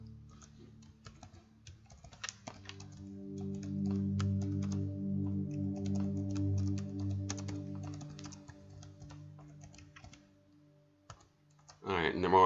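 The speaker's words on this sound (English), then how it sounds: "we're going to go ahead and type" Keys clack in a quick, irregular patter on a computer keyboard, with a tonal hum and some background noise underneath, ending in a burst of louder clicks.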